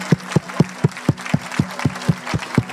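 A church congregation claps in a steady, rhythmic beat, about four claps per second, loud and close, with faint voices beneath.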